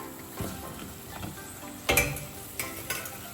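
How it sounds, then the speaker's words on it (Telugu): Hot fried jaggery rose-shaped sweets dropped into jaggery syrup, giving a soft steady sizzle with a few louder bubbling bursts and light pan clinks, close by with no talk. "పాకంలో వేసినప్పుడు ఇలా ఇలా సౌండ్ రావాలి, అంటే పాకం బాగా పీల్చుకున్నట్టు"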